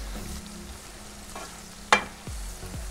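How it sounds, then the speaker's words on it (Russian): Rabbit pieces with onion, garlic, black pepper and rosemary being stirred in a pan, a soft sizzle under scattered scraping strokes, with one sharp clack of a utensil against the pan midway and a couple of low thumps near the end. "Размешиваем все хорошенечко."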